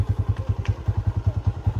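A motorbike engine thumps in a fast, steady rhythm during a ride, loud and close with no voices over it.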